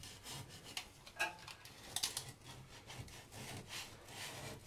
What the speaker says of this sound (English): and clean up that old caulk line.